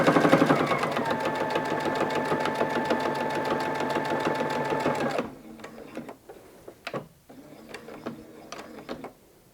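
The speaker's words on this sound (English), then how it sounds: "I backstitched at the top just to anchor my stitches." A sewing machine backstitches across the top of a zipper on a shawl collar, a steady loud mechanical whir for about five seconds that stops and gives way to a few short bursts of stitching.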